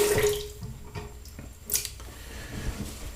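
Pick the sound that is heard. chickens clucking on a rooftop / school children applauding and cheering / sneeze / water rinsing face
water rinsing face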